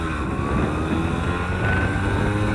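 A fully restored classic Max R100 two-stroke motorcycle with a modified handlebar runs while being ridden, giving a loud, steady, close engine drone with a slowly rising whine and no voices.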